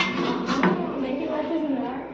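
Metal pots and vessels, including a pongal pot, clinking and clattering at a house-warming function, with one brighter clank amid a busy room murmur and voices.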